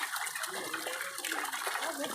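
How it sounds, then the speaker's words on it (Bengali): Vannamei shrimp jumping and splashing in pond water, a continuous close, busy patter of small splashes and water movement. "অনেক চিংড়ি শুধু লাফাচ্ছে।"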